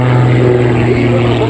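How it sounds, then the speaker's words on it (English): Propeller aerobatic airplanes of the Iron Eagle team flying a formation loop at an air show give a loud, sustained droning engine hum, with a commentator talking over it. "I want you to watch as these 2 airplanes go through this loop, how closely they stay parallel to each other"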